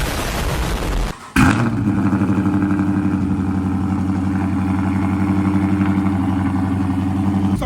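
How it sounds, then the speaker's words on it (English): A Chrysler 300 running catless with long tube headers fires up from cold: a brief crank, then a loud catch and a steady, throbbing, pulsing idle close by. "Cool little quick cold start, man."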